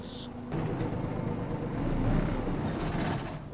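An old Maltese bus engine runs at a steady, loud, dense idle rumble on a route out of Rabat, continuous throughout after a brief quieter start.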